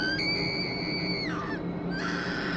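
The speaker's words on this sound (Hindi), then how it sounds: "इस बार नेहा की चीख निकल गई" A woman's scream serves as a horror-story sound effect, a sustained, piercing high-pitched cry that bends downward, breaks briefly, then resumes over a dense, steady background.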